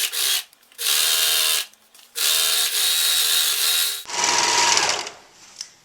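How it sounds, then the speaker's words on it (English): Serger overlocking a garment side seam at a 5/8 inch allowance, running in close, loud bursts of steady whirring with short pauses between, then a rougher, scratchier stretch of fabric handling near the end. "now we're just going to serge down here at 5/8 of an inch."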